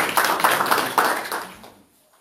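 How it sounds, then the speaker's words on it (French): Clapping from a church congregation, a few bursts of hands with a rough rhythm that fade out and stop before the end, fairly close and loud at first. "Applaudissez pour lui. Applaudissez."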